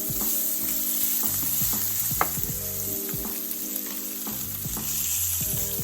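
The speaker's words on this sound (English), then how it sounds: "Now that the stalks are like that, I'm going to throw in my fresh ginger." Broccoli rabe stalks and fresh ginger fry in olive oil in a pan, a loud continuous sizzle close by with light stirring clicks and scrapes throughout.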